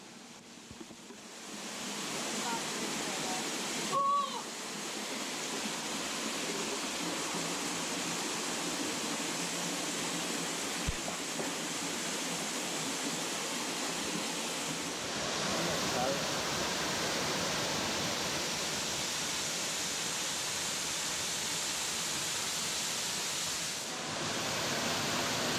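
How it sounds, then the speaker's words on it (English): A waterfall on the Rio Pacuare pours steadily into a swimming pool at its base, a dense, unbroken roar of rushing water heard from nearby throughout. "came out to this beautiful spot where we could swim in the base of a waterfall"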